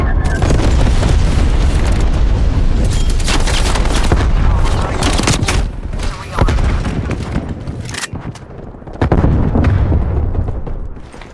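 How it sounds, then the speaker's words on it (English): Napalm strike in Black Ops Cold War, a sustained roar of heavy booms and crackling blasts that rolls on loudly for several seconds, dips briefly, then surges again. "Deploy napalm strike on my grid."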